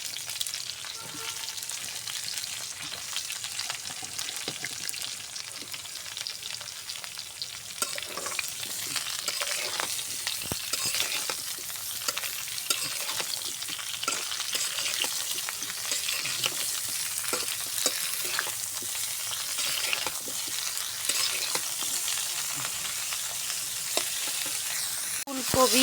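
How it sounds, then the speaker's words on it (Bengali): Cauliflower, potato and eggplant frying together in a pan, a continuous loud sizzle with stirring clatters that grows fuller after the first few seconds and keeps going without pause. "আমি বাগুনগুলোও এর মধ্যে দিয়ে ভাজে দেবো।"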